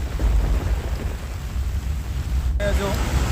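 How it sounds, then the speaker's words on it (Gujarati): Heavy monsoon rain roars in a dense low rumble on a flooded street in Dhanera, Banaskantha, with a brief break and faint voices near the end. "મુશળધાર વરસાદ પડી રહ્યો છે"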